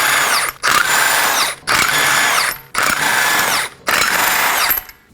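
A power tool spins off 21mm lug nuts from a Toyota Corolla front wheel in four loud, whining bursts separated by brief pauses, close up and with no talk.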